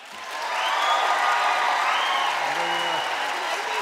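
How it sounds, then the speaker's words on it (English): Applause from a debate audience at a Shakespeare festival forum, swelling to a full steady wash of clapping with a few voices calling out over it. "It's all the same people applauding."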